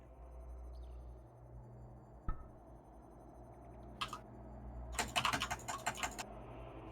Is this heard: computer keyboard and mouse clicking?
yes